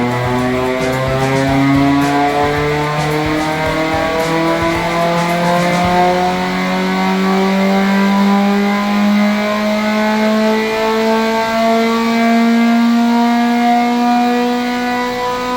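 A remapped Mazda2 1.3 engine, tuned to 98 hp and 132 Nm, revs on a dyno in a long, loud, steady climb, its pitch rising smoothly for over fifteen seconds as it winds up toward top speed.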